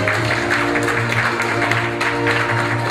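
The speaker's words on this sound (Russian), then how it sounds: "Аплодируем друг другу." Steady applause from a crowd at a corporate New Year party, sustained and even, with a low hum running beneath the clapping.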